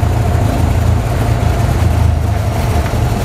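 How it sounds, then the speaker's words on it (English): Cessna 172 engine running steadily as the mixture is pulled toward cut-off, a loud close drone with a constant low throb that holds for the whole stretch with no talking. "Pushing this lock button, slowly pull it back to cut off. This is how we shut the engine off with the mixture."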